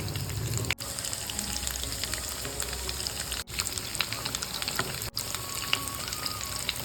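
Egg lollipops coated in gram flour batter frying in hot oil over medium-low heat, a continuous dense crackling sizzle with a few brief dips, close and unaccompanied by talk.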